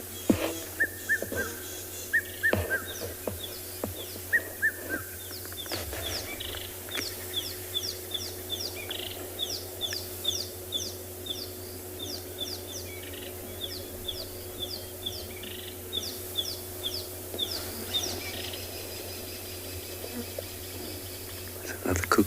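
Assorted bird calls at a safari waterside near sunset, including a water thick-knee and rattling cisticolas, with repeated chirping phrases and scattered whistles over a low steady hum and some faint background sounds.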